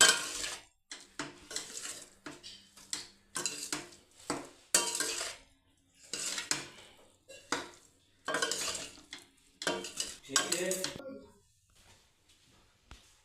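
A spoon scrapes and clinks against a pan in repeated bursts as cooked rice is stirred into fried capsicum masala. The sound is close and rhythmic, with brief gaps between strokes and no talk.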